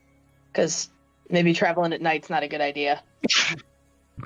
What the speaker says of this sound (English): Whoever just sneezed.